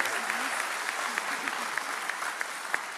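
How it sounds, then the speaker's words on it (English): A church congregation applauds Pastor Bo during a sermon service, a steady wash of clapping with a few sharper individual claps standing out and faint voices murmuring beneath. "can you guys also extend that applause to your pastor"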